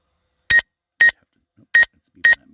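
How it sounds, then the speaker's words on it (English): Drone proximity warning near an antenna in a snowy forest: four short, sharp electronic beeps in two evenly spaced pairs, loud and clear against near silence. "Nope, it's beeping at me"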